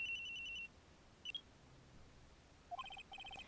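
Electronic cell phone ringtone from the video game Ace Attorney: a bright beeping pattern at the start, a short blip in the middle, then a renewed run of repeated tones near the end, clear and alone.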